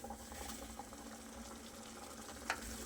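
Water with salt and oil boiling in a pan on a gas stove, a faint steady bubbling hiss with small pops and one brief louder splash near the end.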